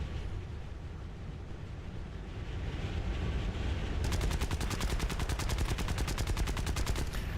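Aircraft guns in the War Thunder video game strafe a ground vehicle. A dense rumble of fire builds into a rapid, evenly spaced stream of shots, loud and continuous with no talking.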